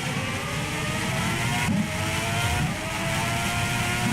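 A Formula E race car accelerates on a soaked track at a Malaysian street race, its whining electric drive rising steadily and continuously, loud and close with a dense hiss of spray.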